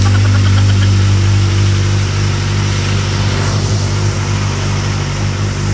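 Kawasaki ZX25R motorcycle fitted with an Akrapovic exhaust, running steadily close by with a deep, droning exhaust note that stays loud and even throughout, no voices over it.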